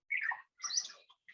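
Birds chirp outdoors in a calm early-morning forest setting, two quick bright bursts of twittering with a short pause between and the start of a third, clear against near silence.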